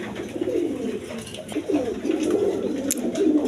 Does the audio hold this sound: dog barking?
no